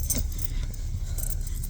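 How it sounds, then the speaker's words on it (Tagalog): A bunch of keys jingles and clinks in short bright bursts, close and fairly loud, over a low rumbling background like a car interior, with no speech. "ito susi"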